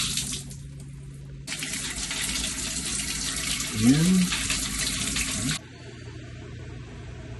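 Water gushes from a shower tap in a home on moving day, a loud broad rush starting abruptly and running steadily for several seconds before cutting off, with a brief voice over it.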